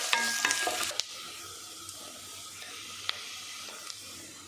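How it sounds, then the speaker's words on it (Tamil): Two large chopped onions go into hot oil for Dindigul-style chicken biryani, with a few clattering stirs at the start, then a steady close sizzle and hiss with occasional scrapes. "அடுத்து ஒரு 2 பெரிய வெங்காயம் கட் பண்ணி வச்சுருக்கேன். இதை நல்லா எண்ணெயில் போட்டு நல்லா வதக்கலாம்."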